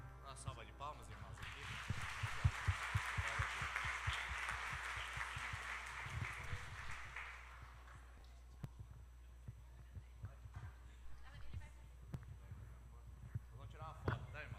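A church congregation breaks into applause, a dense wash of clapping that swells over several seconds and then thins to scattered claps, with low murmuring in the room.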